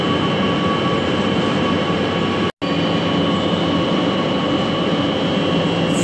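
Scrap metal being cut to length by a machine saw in a workshop, a loud, steady, droning mechanical whine with a brief cutout near the middle, no voices.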